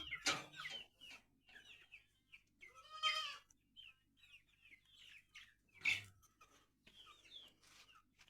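Chickens on a farm with a goat shed cluck in scattered short bursts, close by and fairly quiet, with a few louder squawks standing out among quiet gaps.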